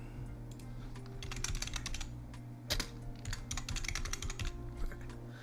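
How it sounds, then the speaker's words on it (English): Computer keyboard typing during a tabletop role-play game session, rapid bursts of close, crisp key clicks with short pauses between runs, no talking. "I'm typing in the wrong spot."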